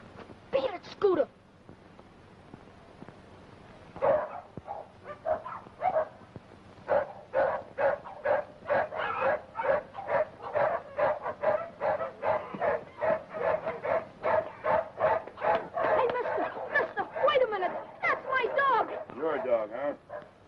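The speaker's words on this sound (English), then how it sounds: "Your dog, huh?" A dog barks repeatedly in quick, uneven bursts, mixed with yips and whimpers, fairly close and at moderate volume, with people talking around it.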